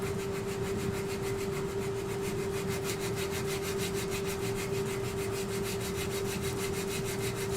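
Abrasive sanding on a woodturning held on a lathe, using a small turned stick covered in Velcro, gives a steady continuous rubbing hiss over a constant motor hum, close and unbroken throughout.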